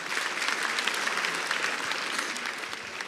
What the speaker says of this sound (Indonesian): Sekali lagi tepuk tangan buat Ridwan Remin.